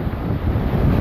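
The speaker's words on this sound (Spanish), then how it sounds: "las olas del mar" Sea waves wash along the seafront promenade of the Malecón de Nagua in the Dominican Republic, a loud continuous roar of surf buffeted by strong wind against the microphone.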